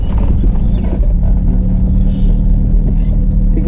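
Engine of a manual car during a practical driving road test, a steady low rumbling drone heard from inside the cabin, close and continuous with no clear revving.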